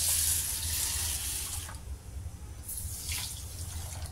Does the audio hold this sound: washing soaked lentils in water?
yes